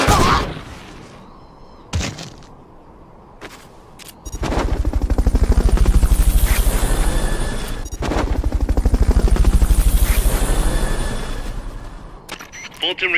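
Fulton recovery helicopter in the video game Metal Gear Solid: Peace Walker, a loud, rapid, pulsing rotor chop swelling in two long waves after a few sharp clicks and hits, with game sounds around it.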